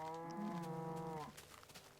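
A cow moos once in Minecraft with the Thaumcraft mod, a single drawn-out lowing call lasting about a second, fairly quiet, followed by faint ambient noise.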